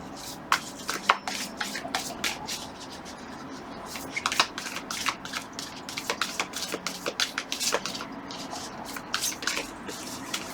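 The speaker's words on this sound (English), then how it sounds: "These are just so hard to shuffle," A deck of oracle cards is shuffled by hand, giving repeated crisp riffling and flicking bursts at an uneven rhythm, close and fairly quiet in a calm indoor room.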